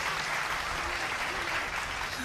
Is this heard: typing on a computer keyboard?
no